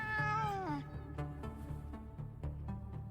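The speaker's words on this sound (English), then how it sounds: "There are feral cats seemingly guarding the door." Feral cats meow loudly in the video game Sense: A Cyberpunk Ghost Story, with a long drawn-out yowl followed by several shorter, quieter meows over a steady low background hum.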